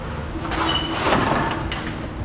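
The doors on a Conestoga curtain-side trailer are swung open outdoors, making a close, broad metallic rolling and scraping rush with a few clanks, and no one talking.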